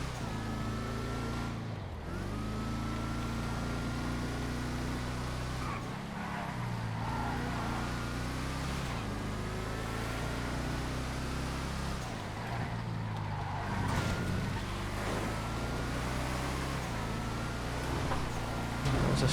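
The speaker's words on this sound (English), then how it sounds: "The Tampa is a great car." A Tampa car in the GTA FiveM racing game drives with a continuous engine hum that rises and falls with shifts and throttle changes, fairly loud and steady with no speech.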